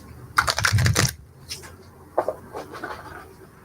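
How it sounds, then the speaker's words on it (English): A burst of rapid crisp riffling clicks from a deck of self-care cards shuffled up close, then a few softer, scattered card flicks after a pause. "let me do one light shuffling here."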